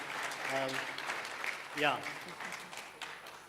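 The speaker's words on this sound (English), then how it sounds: "I think you deserve a round of applause because we see talent here" Audience applause at a rising star summit panel, a steady bed of clapping from the room with voices speaking briefly over it.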